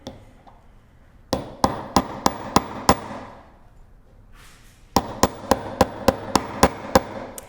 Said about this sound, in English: I'm just going to show you a little bit how to hammer everything